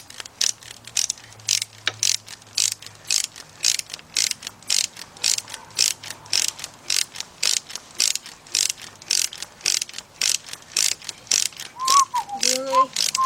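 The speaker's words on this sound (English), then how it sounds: "now you're going to take your 14 millimeter deep 3/8 drive and you're going to start off on this bolt right here" A ratchet with a 14 mm deep 3/8-drive socket tightens a bolt during head gasket work on a Nissan engine, giving a steady run of sharp, evenly spaced clicking strokes, close and alone, with a brief squeak near the end.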